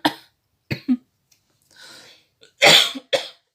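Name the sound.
cough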